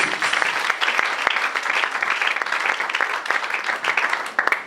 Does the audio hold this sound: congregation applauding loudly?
yes